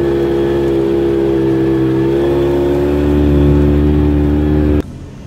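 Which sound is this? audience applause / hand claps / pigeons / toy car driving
toy car driving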